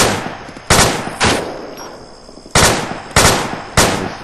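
Machine gun loaded with tracer rounds fires in ARMA 2 during a Tora Bora force recon mission, in six loud, close, evenly spaced short bursts with near silence between them.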